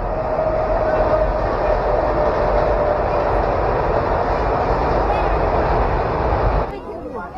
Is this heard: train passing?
yes